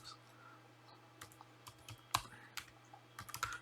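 Quiet, close typing on a computer keyboard, scattered individual key clicks gathering into a short quicker flurry near the end over a low steady hum.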